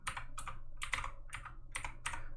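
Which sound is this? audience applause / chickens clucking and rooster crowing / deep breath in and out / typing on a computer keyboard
typing on a computer keyboard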